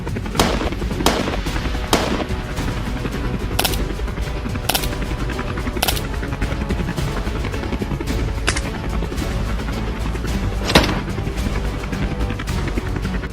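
Gunfire from aircraft culling wild boar over open landscape: several sharp, loud shots crack at irregular intervals above a constant low rotor-like rumble.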